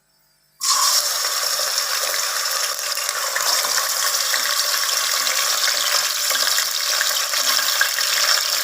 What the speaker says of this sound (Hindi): ऑयल में से मैंने वो प्याज निकाल लिए हैं और इसी ऑयल में मैं ये आधा किलो चिकन है ये शामिल करेंगे